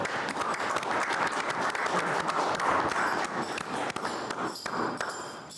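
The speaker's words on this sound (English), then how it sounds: "Please give them a round of applause." An audience at a school board meeting claps steadily for several seconds, a dense crackle of many hands with no voices standing out.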